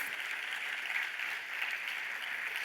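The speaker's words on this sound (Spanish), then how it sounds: "mientras tanto podemos darle un fuerte aplauso" Steady applause from a crowd, even and sustained throughout, with no breaks or voices standing out.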